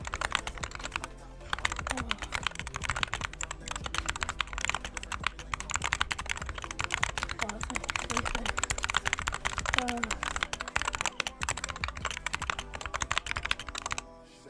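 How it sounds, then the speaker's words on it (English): Rapid clicky typing on a Wooting 60HE gaming keyboard fitted with blue pudding keycaps, a dense, continuous patter of close keystrokes with a soft tonal backdrop underneath. "So the keyboard I use is the Wooding 60HE, and this is actually the fastest gaming keyboard in the market right now, and it sounds absolutely amazing."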